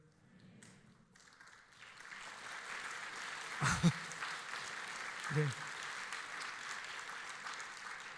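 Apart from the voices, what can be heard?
applause from church congregation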